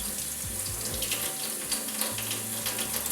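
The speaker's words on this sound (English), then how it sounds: "running the water down the brush" Tap water runs steadily into a sink while a makeup brush is rinsed under the stream, a close, continuous splashing gush with slight shifts as the brush moves through the flow.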